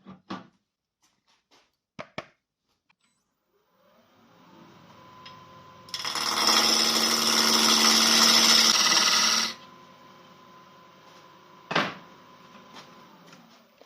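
A wood lathe turns a tenon under a skew chisel: a steady, loud broadband cut of about three and a half seconds, with scattered clicks and taps before it and a sharp knock after.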